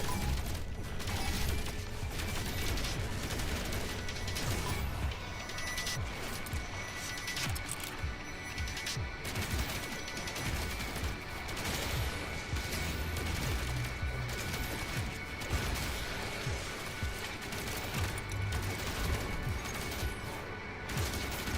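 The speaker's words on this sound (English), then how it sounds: "I love hopping back in the Corvette and using the weapons to eradicate sentinels" Corvette ship weapons fire at sentinels in No Man's Sky, a dense, continuous barrage of mechanical rattling shots and crashes running loud and steady from start to finish with no talk.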